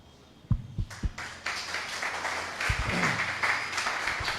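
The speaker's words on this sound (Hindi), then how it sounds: "तालियों में कंजूसी है अभी भी।" In a church gathering, a few scattered, thudding claps open the moment, then the congregation joins in with moderate, fairly quiet applause that builds and holds to the end.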